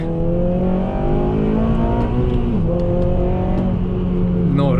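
A 2007 Honda Civic Type-R engine revs hard in second gear around 5400 rpm, a loud, steady rising drone heard close from inside the car, with a slight dip and pitch shift midway.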